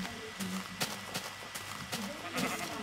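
Blocky sheep in a Minecraft game give short bleats in quick succession, close and clear, mixed with brief game noises and no talking.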